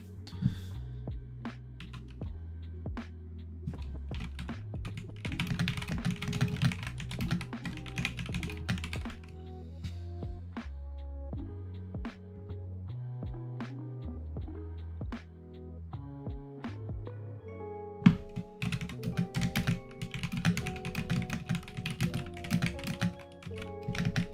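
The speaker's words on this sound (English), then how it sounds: "Your keyboard is loud." Rapid, loud clacking of computer keys goes on in uneven bursts throughout, close to the microphone, mixed with soft background music and no talking.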